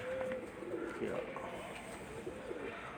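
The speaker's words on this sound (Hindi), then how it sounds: "ये मियाँ साहब के लाल परी कबूतर हैं जी" Lal Pari pigeons coo with soft, repeated low calls amid a busy background hum, while someone talks nearby.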